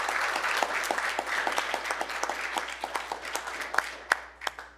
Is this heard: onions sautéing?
no